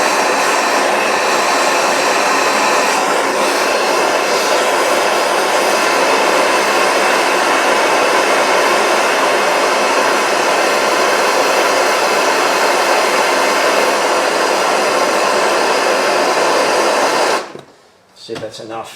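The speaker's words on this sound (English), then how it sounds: "The Mac torch, I don't have acetylene, it's on my list, but Mac usually will do fine for these" A Mac propane torch roars steadily and loudly while heating the oil pan bolts on a 2000 Ford 2.0L SOHC engine, then cuts off abruptly near the end.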